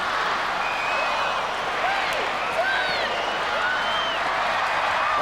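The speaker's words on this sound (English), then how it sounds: "most of the Novocastrians applaud another home victory" Large stadium crowd of about 18,700 at a home rugby league win by the Newcastle Knights, a steady broad roar of applause and cheering throughout, with faint whistles rising above it.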